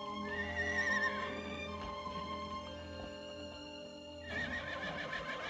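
A mare in a Western setting neighs and whinnies repeatedly, with hoof clip-clop beneath, fairly faint and alone with no talk.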